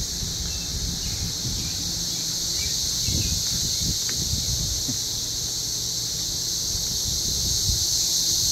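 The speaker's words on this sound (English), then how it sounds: "there's enough cicadas where you noticed them" Cicadas in the trees near Columbia, Missouri, make a steady, unbroken high-pitched drone throughout, with low rumbling and faint rustling beneath it.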